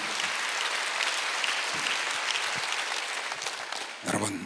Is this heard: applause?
yes